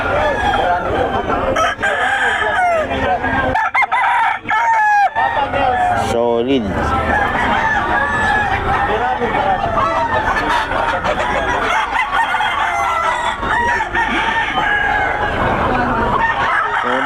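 Roosters crow repeatedly and chickens cluck among a crowd of gamecocks brought for sale from Pampanga, loud and close, with people talking throughout.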